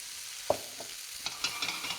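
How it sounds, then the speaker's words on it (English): Fried chicken and onions with spice bag seasoning tossed in a pan, a sharp clatter followed by lighter scraping and soft sizzling over about two seconds, close and fairly quiet. "And I'm gonna just give it a toss."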